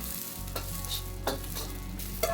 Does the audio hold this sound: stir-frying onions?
yes